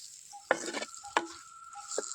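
Masala fries in a hot pan for a Konkani-style squid fry, giving a steady close sizzle broken by three sharp scraping stirs of the spoon.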